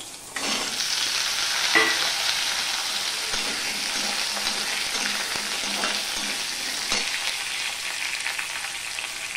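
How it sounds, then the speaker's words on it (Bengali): Potato pieces hit hot oil with five-spice seeds of mustard, cumin, fennel, nigella and fenugreek, giving a loud, steady sizzle that fills the whole stretch, with a few stirring scrapes. "এবার আমি আলুগুলো দিয়ে দিলাম।"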